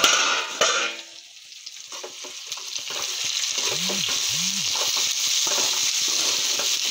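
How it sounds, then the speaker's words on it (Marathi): Brinjal pieces cooking in hot oil and masala for an aloo baingan sabzi, giving a steady, close sizzle and fry hiss with a few stirring scrapes and clicks, no talk. "वांगे तेल मसाल्यामध्ये शिजू देऊ"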